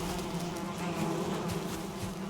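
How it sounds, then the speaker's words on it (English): A steady, soft, continuous hum of bees buzzing in the Valheim video game, unbroken throughout and fairly faint, with no talking over it. "the bees are being very happy"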